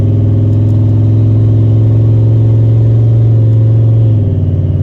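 A turbocharged Ford Mustang on a short ride gives a loud, steady engine drone close to the listener, a sustained low rumble that holds nearly constant before shifting slightly near the end, with no voices.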